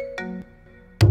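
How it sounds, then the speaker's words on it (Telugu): An incoming-call phone ringtone, a short bright electronic melody of sustained tones sounding loud and close, then a louder note burst at the end, without any speech. "ఇదిగో పింకే, మీ నాయన ఫోన్ చేస్తున్నాడు"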